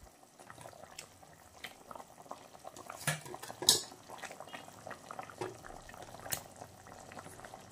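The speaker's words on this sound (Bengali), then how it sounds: "ঝোলটা দেখো টকবক টকবক করে ফুটতে শুরু করে দিয়েছে।" Fish curry broth with chilli bubbles in a pot, a quiet, uneven stream of pops and gurgles close by, with a few sharper clinks of utensils against the pot.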